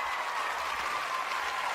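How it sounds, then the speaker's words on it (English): Studio audience applause on a live cycling show: a steady, even patter of clapping for under two seconds, moderately quiet and with no talking over it. "Give me a little clap for that."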